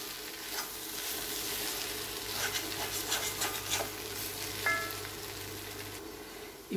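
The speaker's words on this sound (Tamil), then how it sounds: "நல்லா கலந்து விட்டுட்டு ஸ்லோ ஃப்ளேமில் வச்சுடுங்க" A potato roast fries slowly over a low flame in a kadai while being stirred. Soft scraping strokes and a low, continuous sizzle stay close and fairly quiet throughout.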